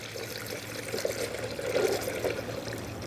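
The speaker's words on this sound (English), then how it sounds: "now just take the manufacturer specified coolant and fill it up" Coolant poured through a funnel into the coolant tank of a 2010-2017 Chevrolet Equinox, a close, steady gurgling trickle that swells slightly midway, with no talking.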